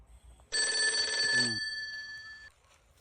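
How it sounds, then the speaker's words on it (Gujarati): A telephone bell rings indoors in one loud, sustained electronic trill lasting about a second, with its tone lingering and fading after; no talk over it. "કોનો ફોન આવ્યો જો જોઈ તું"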